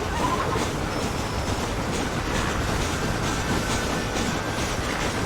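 Train running in Red Dead Redemption on Nintendo Switch: a loud, continuous rolling rumble of railcars with a faint high squeal threading through, steady from start to finish and free of speech.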